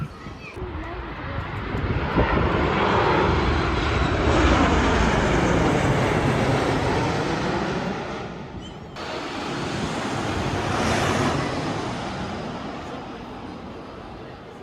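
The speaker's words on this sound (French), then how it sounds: "Du coup, depuis tout à l'heure, on voit des avions." An airplane passes overhead near Malaga airport, its engine roar swelling loudly and then fading before a second rising rush, with faint voices underneath.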